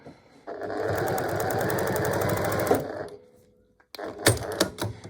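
Close sewing machine topstitching along the edge of a square pot holder, running in a steady loud burst for a couple of seconds, stopping, then giving a few short uneven spurts after a pause.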